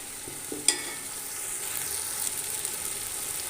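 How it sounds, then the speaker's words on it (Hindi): Chicken frying with biryani masala in a pot gives a soft, low sizzle, with one sharp metallic clink near the start as it is stirred. "ये गोश्त जो है ये अंदर तक फ्राई हो चुका है।"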